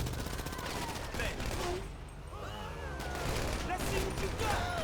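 In the GTA V video game, a man riding a bike fires a gun in a steady rattle of rapid shots that sits behind a dense, noisy game mix, with faint voices mixed in.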